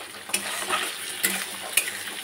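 Spices being sautéed and stirred in a hot pan, a steady close sizzle broken by three sharp utensil scrapes against the pan, no talking.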